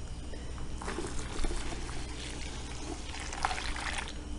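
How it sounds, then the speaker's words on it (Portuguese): Two litres of cold water poured into a pot of boiling water while making a liquid detergent and soap base, a steady soft trickling stream running throughout at moderate level, no talking. "Agora nós vamos colocar 2 litros de água fria."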